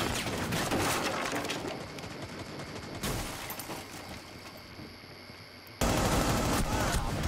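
Gunfire in a tactical shooter video game with hostage and biohazard-container objectives, heard as bursts of shots in two clusters, loud and dense at the start and again near the end, with quieter game ambience between.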